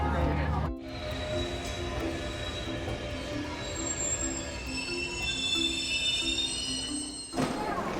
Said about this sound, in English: The train conductor, Liu Wei, has long regarded the train as his family